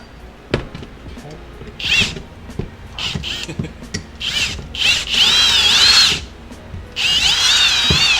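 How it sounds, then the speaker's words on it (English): A power drill with a 5/16 bit whines in short bursts, then longer runs, widening holes up close, with a few knocks and handling noises between. "I'm going to use a 5/16 drill bit and just widen these guys out a little bit."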